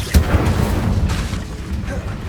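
An Incendio fire spell goes off in Hogwarts Legacy: one sharp, loud boom near the start, then a dense rumbling roar that stays full and steady to the end.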